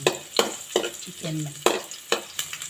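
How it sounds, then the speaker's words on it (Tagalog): Garlic sautéing in a pan for chicken adobo, sharp spatula scrapes and clacks repeating every half second or so over a bright sizzle, close and loud. "Pag nag-aadobo ako mga mamsi, ginigisa ko muna siya para maalis yung lansa ng chicken."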